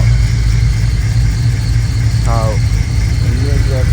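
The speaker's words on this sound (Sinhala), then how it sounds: "මේක වල එන්ජින් එක දිහා බලුවොත් එන්ජින් එක පොඩක් ෂේක්." A Holden Commodore SSV engine idles with a slight shake, giving a steady low rumble that holds level throughout, with brief voices breaking in over it.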